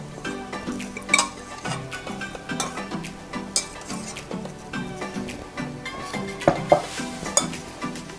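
Wood ear fungus salad is scraped and tipped into a bowl, with close clinks of utensil against dishware and soft stirring and scraping in uneven bursts, no speech.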